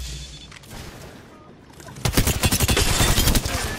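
Rapid automatic gunfire in Apex Legends Season 15 gameplay bursts in loudly after a quieter stretch, a fast rattling volley of shots continuing to the end.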